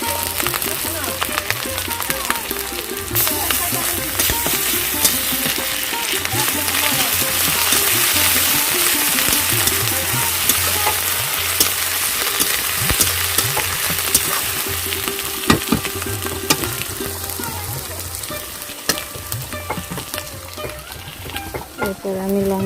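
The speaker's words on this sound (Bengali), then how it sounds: "পেঁয়াজটা ভালোভাবে ভাজা হয়ে গেলে এবার আমি রসুনটা দিয়ে দিই।" Onion and garlic frying in a pan for a village-style rohu fish curry, a steady close sizzle with occasional stirring scrapes running throughout, no one talking.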